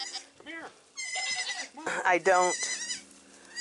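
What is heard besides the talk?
dairy goats bleating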